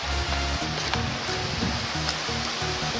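Mahamaya waterfall at Sitakunda roars as a dense, steady rush of falling water close by, with low droning tones running underneath.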